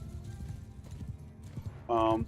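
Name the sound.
horses of mounted horse archers moving, from video game Bannerlord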